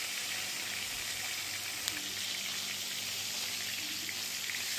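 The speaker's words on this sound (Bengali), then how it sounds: "মাছগুলো দেখো, মাছগুলো ভেজে নিচ্ছি" Fish fries in hot oil in a wok, giving a steady, even sizzling hiss that holds at a moderate level throughout, with no talking.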